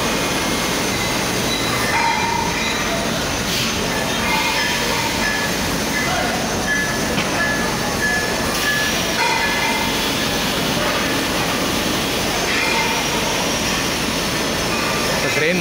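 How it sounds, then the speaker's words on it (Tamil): A train rumbles past loudly and continuously inside a foundry, wheels clattering on the rails with occasional faint squeals, no voices over the din. "ட்ரெயின் மூலமா"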